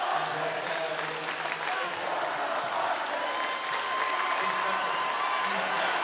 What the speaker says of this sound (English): The crowd on their feet now waving goodbye to the Cheesemakers.